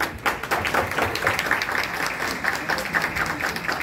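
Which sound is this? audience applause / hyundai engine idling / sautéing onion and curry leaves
audience applause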